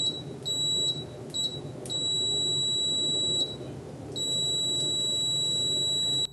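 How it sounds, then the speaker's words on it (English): A Brymen BM235 multimeter gives continuity-test beeps: sharp, high, steady electronic tones lasting about a second or two each, starting and stopping abruptly several times in a row, loud and close. "Now we're going to test some continuity. Going to use the probe masters. Notice that the screen flashes besides the beep."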